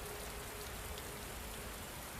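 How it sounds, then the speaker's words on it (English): Heavy rain drums steadily in a dense, continuous wash of hiss at a constant, fairly soft level, with no voices. "The rain was loud, but the drumming of it put me to sleep more easily."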